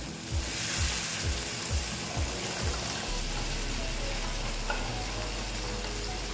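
Water poured into a pan of frying tangra fish curry, a broad sizzling hiss with low stirring knocks early on, settling into a steady bubbling simmer close by, no talking.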